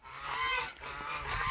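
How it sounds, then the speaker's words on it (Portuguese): Several farm geese honk loudly and repeatedly, overlapping calls filling the short stretch with no talk over them. "Bastante ganso aqui no sítio Paraíso."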